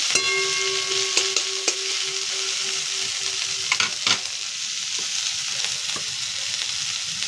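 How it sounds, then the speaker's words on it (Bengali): Chopped tomatoes frying in a pan, a constant loud sizzle with a few utensil taps and scrapes scattered over it, no talking. "এরপরে দিয়ে দিলাম টমেটো কুচি। এটা দিয়েও ভালোভাবে একটু ভাজবো।"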